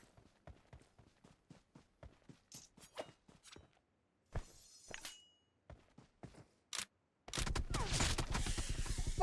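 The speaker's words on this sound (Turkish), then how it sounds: "bomba bomba atıyorlar" Gunfire and grenade blasts in a PUBG Mobile shopping-mall firefight. Sparse clicks, taps and a few sharp bursts lead into a loud, continuous rattling volley near the end, all distant and thin at first, then close and dense.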